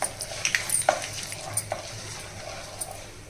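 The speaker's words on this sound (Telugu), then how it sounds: "కరివేపాకు కూడా చక్కగా వేగిన తర్వాత" Curry leaves fry in a pan for pickle with a low sizzle, broken by a few sharp crackles and pops and the light clink of a utensil.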